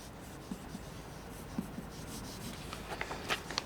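A pencil scratches quickly across paper while an animation gesture with speed lines is drawn. The strokes are faint and close, with a few sharper ticks and no talk.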